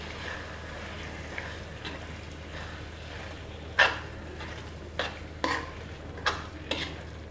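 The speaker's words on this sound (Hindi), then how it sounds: "तेज आंच पर घी छोड़ने पर बराबर भून लेते हैं" Green halwa with ghee stirred and roasted over a high flame, a low steady hum with a quiet sizzle, punctuated by several sharp spatula scrapes and clinks against the pan.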